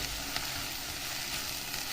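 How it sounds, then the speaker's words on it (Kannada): Chicken with mint frying in a pan gives a steady, dense sizzle that holds at an even level throughout, close and fairly loud, with no talking. "ಇದು ನೋಡಿ ಎಷ್ಟು ಬೇಗ ಇದಾಗೋಗುತ್ತೆ, ಅಂದರೆ ಫ್ರೈ ಆಗೋಗುತ್ತೆ"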